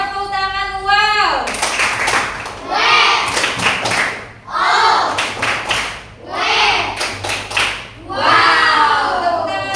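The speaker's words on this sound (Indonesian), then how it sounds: "Beri tepuk tangan wow." A classroom of students claps for a group after its presentation, in four bursts of loud applause with pauses between them, while children's voices and talking mix through.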